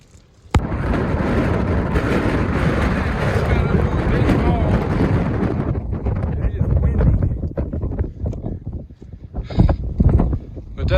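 Strong gusty wind of roughly 40 mph buffets the microphone high on a mountain trail, a loud continuous roar that surges and drops, with sharper gusts near the end.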